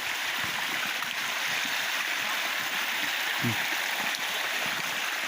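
River water rushes steadily across a flooded road, loud and continuous from start to end, a broad unbroken wash with no speech.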